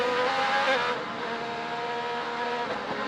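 IndyCar race cars at the St. Petersburg Grand Prix street circuit, heard from on board as a loud high-pitched engine whine that drops in pitch when the driver lifts off, then climbs again while accelerating.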